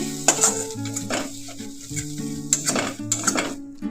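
A spoon stirs egg posto curry with a pinch of turmeric in a hot pan, producing repeated scraping strokes against the metal over a continuous close sizzle, with occasional light clinks.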